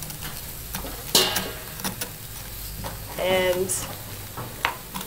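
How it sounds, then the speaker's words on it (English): A spoon scrapes seeds from the inside of a halved spaghetti squash in a few short, rasping strokes, with someone talking over the scraping. "You next want to scoop out the seeds of the spaghetti squash"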